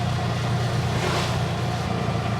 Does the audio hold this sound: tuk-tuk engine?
yes